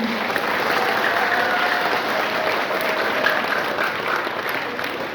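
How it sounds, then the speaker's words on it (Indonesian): An audience at a university student orientation session applauds together indoors, a loud, dense, steady clapping that fills the whole stretch without pause. "beri tepuk tangan dulu untuk sesi"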